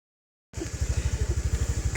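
A scooter engine starts up abruptly from silence and runs with a steady, pulsing putter at close range, loud and even on a ride around Chiang Mai.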